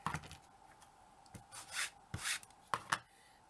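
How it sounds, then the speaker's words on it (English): Ink blending tool rubbing walnut stain into small wooden pieces for a miniature Victorian kitchen, giving soft, close, intermittent scrubbing strokes with short pauses between them, with no talking. "while it's wet, use my ink blending tool"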